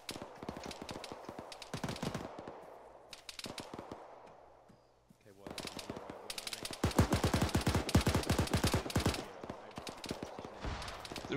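Arma 3 jungle combat with bursts of machine-gun and rifle fire, sharp rapid cracks in clusters broken by a brief lull, then growing louder and denser toward the end.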